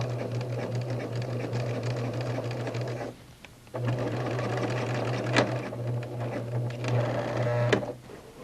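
A sewing machine stitches elastic together, running steadily with a constant motor hum and rapid needle rhythm, pausing briefly once as it reverses direction to lock the stitching.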